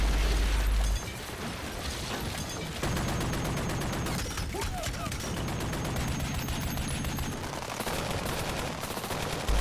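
Gunfire and grenade launcher fire from a combat scene in The Walking Dead season 3 finale, 'Welcome to the Tombs': dense, loud, sustained bursts of shots and blasts running throughout with no pause.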